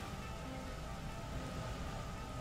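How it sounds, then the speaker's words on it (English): Steady rain falls in the video game Xenoblade Chronicles X, in a forested area with giant roots, a constant even wash of hiss with no breaks and no voices. "This place looks kind of interesting under the rain."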